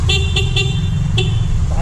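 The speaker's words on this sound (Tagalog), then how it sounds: "Tapos yung busina natin, busina." An FKM Hunter 150 motorcycle horn beeps in short, close honks: three quick ones in a row, then a fourth after a pause, over an idling engine.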